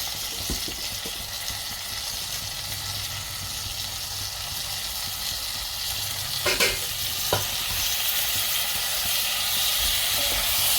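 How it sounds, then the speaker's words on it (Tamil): Onion, tomato, garlic cloves and green chilli sauté in a pan over a low flame with a steady close sizzle, broken by a couple of short utensil scrapes near the end. "இப்போ நல்லா வதக்கி விடுங்க. ஃப்ளேமை கம்மியாக வச்சுக்கோங்க."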